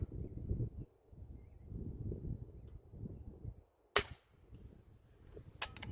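A Weihrauch HW air rifle fires a single sharp crack outdoors over soft wind rumble, followed moments later by a fainter snap, both close and brief against a quiet background.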